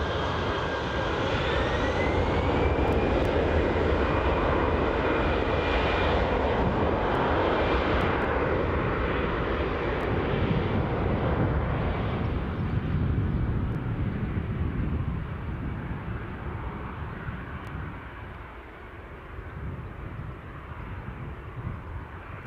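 Aircraft engines roar continuously at Newcastle airport in northeast England near twilight, a loud broadband drone with wind rumble that eases somewhat toward the end.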